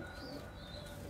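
Pigeons in a coop in Kasımpaşa, Istanbul, giving soft, low cooing and a few faint chirps over a steady background hum, with no one speaking.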